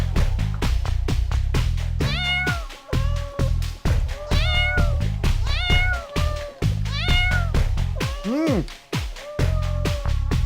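A cat meows several times, its calls rising and falling clearly over loud, rhythmic music with a heavy beat that plays throughout.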